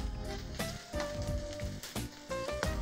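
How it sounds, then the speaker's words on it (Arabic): Onion and carrot sizzle while being sautéed in a pan, a fairly quiet, steady crackling fry with small irregular pops and stirring bumps throughout. "برضو هنشيك على بصل وجزر"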